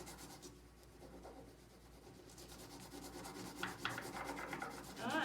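A crayon rubs across paper laid over a leaf, a soft, close, rhythmic scratching of repeated quick strokes that grows a little louder toward the end.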